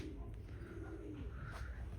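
Pigeons coo softly on a goat farm, low rolling calls blended into faint, steady background noise.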